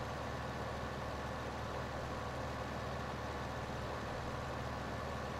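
A tractor in Farming Simulator 15 pulls a heavy old seeder, and its engine gives a steady, unbroken low drone at constant loudness throughout, with no voices.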